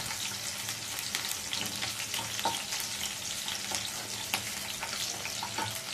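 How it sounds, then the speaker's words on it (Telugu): Thinly sliced onion and a slit green chili frying in hot oil in a pan, a steady bright sizzle with crackles and occasional stirring scrapes, close and continuous without speech. "ఇప్పుడు సన్నగా తరిగి పెట్టుకున్న ఉల్లిపాయ, ఒక పచ్చిమిర్చి నిలువుగా చీల్చుకున్నది వేసి ఫ్రై చేసుకోవాలి."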